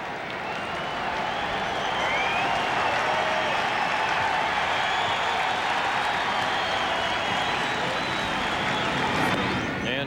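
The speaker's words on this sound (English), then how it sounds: "the crowd is ready to go tonight" A packed stadium crowd at the 1993 World Series Game 4 in Philadelphia, Phillies hosting the Blue Jays, keeps up a steady roar with clapping and cheering for about ten seconds, dense and continuous, with faint voices mixed into the din.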